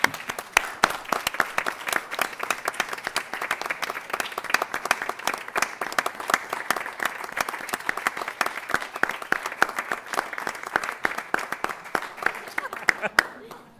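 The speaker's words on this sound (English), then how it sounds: "Commissioners, I think he deserves a round of applause." Steady applause from commissioners and attendees fills a budget workshop meeting room, with dense, even clapping that holds at moderate loudness for about fourteen seconds without fading.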